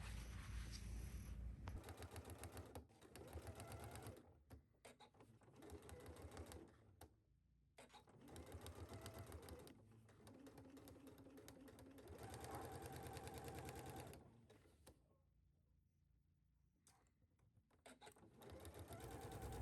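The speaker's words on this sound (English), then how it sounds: "take this to your sewing machine and sew your dart legs down" A sewing machine runs in bursts of rapid stitching, sewing down dart legs on a garment's fabric, with short pauses between runs; close and steady, no talk.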